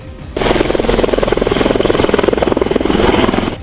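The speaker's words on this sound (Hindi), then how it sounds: "वहां एक के बाद एक सेना के अपाचे हेलीकॉप्टर सफेद बर्फ की चादर पर जैसे ही उतरे, पूरी घाटी में इसकी आवाज गूंज उठी" Army Apache helicopters set down one after another on snow-covered mountain ground, their rotors throbbing in a loud, steady, close chop that fills the whole stretch without any voices.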